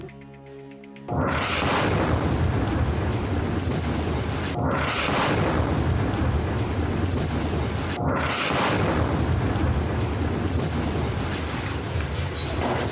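A large bomb blast in Al-Mawasi, Gaza erupts abruptly and loudly after near-silence, followed by a sustained roaring rumble with two more heavy bursts layered on top.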